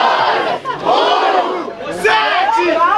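A rap battle crowd roars and chants together, loud close massed voices surging in waves with shouts rising above the din, then swelling again into a final burst of cheering.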